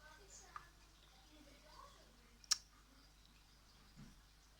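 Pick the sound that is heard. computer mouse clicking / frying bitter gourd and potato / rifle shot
computer mouse clicking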